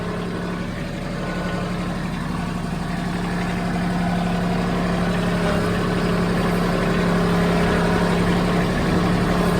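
A compact tractor engine runs steadily at a low, even idle-like rumble, close by and alone, growing slightly louder over the span.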